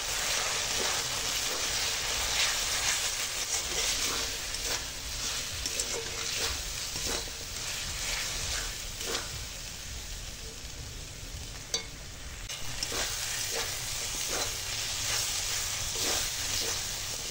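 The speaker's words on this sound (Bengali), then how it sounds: "এবার মশলাটার সঙ্গে কষাবো।" Potatoes frying with chili powder, turmeric and salt in a pan for potato dum with peas, a steady loud sizzle throughout with repeated scraping stirs of a spatula, close up and no talking.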